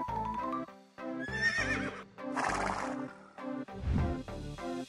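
A horse neighs and whinnies repeatedly in loud, shrill, wavering calls with snorting between them, close by and with no talking.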